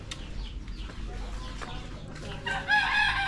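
Farm chickens cluck around feeding time, with scattered soft clucks early and then a louder burst of calls near the end as the birds get excited.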